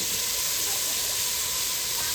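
Eggplant and potatoes hit hot oil with asafoetida and give off a steady, even hiss that stays constant and fairly soft throughout, with no talking.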